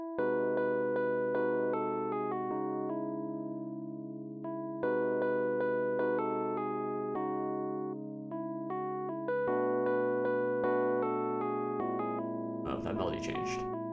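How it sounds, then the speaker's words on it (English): Electric piano playing a rubato melody sketch with sustained chords and moving upper notes, steady and moderately quiet, with a brief noisy burst near the end. "this electric piano, which we can listen to."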